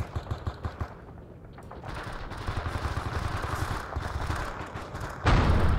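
Gunfire from the game Men of Valor in multiplayer, with bursts of rapid shots at a steady rhythm, mid-distance at first, and a louder, closer burst near the end.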